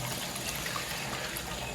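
Water runs steadily from a tap while dishes are washed at a home sink, a continuous close trickle and splash with no talking.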